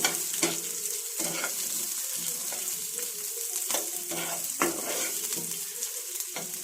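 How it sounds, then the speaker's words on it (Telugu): Onions and spices frying in a pan for an aloo tomato curry, stirred repeatedly: a constant hiss of sizzling broken by rhythmic scraping strokes of the spoon, close and fairly quiet, without speech. "వీటన్నింటిని కాసేపు ఫ్రై చేసుకోవాలండి. బాగా కలుపుకోండి, బాగా ఫ్రై చేసుకోండి."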